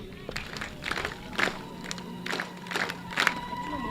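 Applause and clapping from a crowd standing to welcome the Governor at a project launch event in Isiolo County, Kenya, rising in several bursts amid background murmur and voices.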